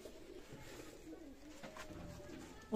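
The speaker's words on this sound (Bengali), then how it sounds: "এক জোড়া টেডি কবুতর আছে দেখেন, টেডি জেনারেশনের কবুতর" Soft, low cooing of teddy pigeons repeating close by in a quiet setting, gentle rolling calls with faint background noise.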